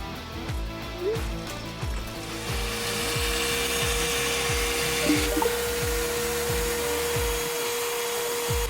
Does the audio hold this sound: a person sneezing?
no